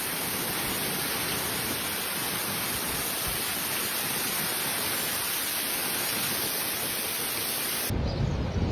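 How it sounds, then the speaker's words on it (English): A heavy thunderstorm over the Chicago area and Illinois suburbs, with loud, steady, dense rain and rumbling thunder that holds without pause until it cuts off abruptly near the end. "A catastrophic storm system barreled into Chicago and surrounding Illinois suburbs."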